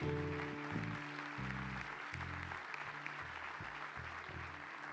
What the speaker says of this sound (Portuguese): Vamos aplaudir o Senhor por essa palavra.